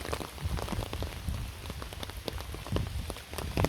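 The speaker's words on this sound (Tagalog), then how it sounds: "Biglang bumuhos ang ulan." Heavy rain pours down steadily on a bypass road, a dense continuous patter of drops drumming on a surface close by, with no voices.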